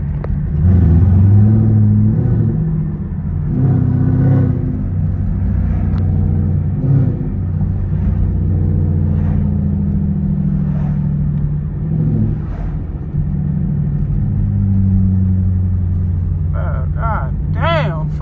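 A tuned Chevrolet Camaro SS V8 rumbles low and steady while cruising at night, with the engine swelling at times under someone talking throughout.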